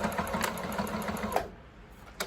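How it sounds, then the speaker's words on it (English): A sewing machine back-stitches Velcro onto a fabric face mask, a steady rapid mechanical hum with rhythmic stitching ticks that stops partway through, leaving a brief quiet tail and one last click. "Back stitch to secure it"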